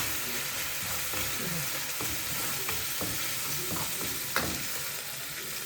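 Garlic and coriander fry in a pan under a constant loud sizzle, with a spoon stirring through them and giving occasional scrapes and one sharper knock.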